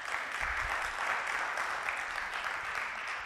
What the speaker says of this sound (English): For Jesse, you have to give a round of applause.